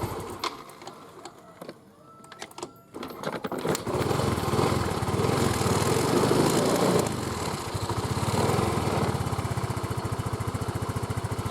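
A Yamaha Mio M3 scooter engine sits at idle during a charging-system check. Quieter clicks and rattles come first, then a loud, steady, putting idle runs close by to the end.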